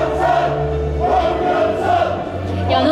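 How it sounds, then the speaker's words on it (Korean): A crowd at a Korean Democratic Party leadership candidates' joint rally in Ulsan chants in rhythmic waves, loud and sustained, with a few voices rising above the mass. "연호 때문에 진행이 안 될 정도로 열기가 뜨거운데요"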